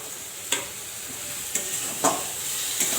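Spice paste with salt and garam masala fries in a pan for a katla fish curry, a steady hiss broken by four sharp scraping stirs spaced a second or so apart, close and alone.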